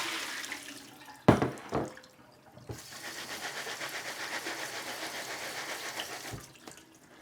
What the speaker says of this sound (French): on rince à nouveau.